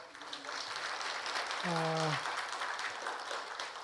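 Audience applause welcomes guests at a public hearing on campus-town urban regeneration at Korea University's Anam campus: a dense, steady wash of clapping through the whole stretch, with a brief voice sounding over it midway.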